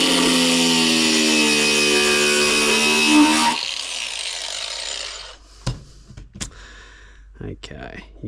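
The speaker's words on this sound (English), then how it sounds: "So just a metal cut-off blade." A metal cut-off blade grinds through an RC boat drive shaft, a loud harsh continuous rasp for a few seconds, then stops, followed by quieter clicks and handling noises.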